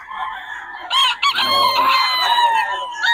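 A Kelso Golden Boy stag rooster at a market crows loudly and close, a single drawn-out cock-a-doodle-doo after a short clucking lead-in, with faint background noise.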